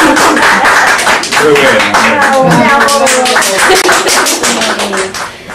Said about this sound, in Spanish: Un aplauso, pues.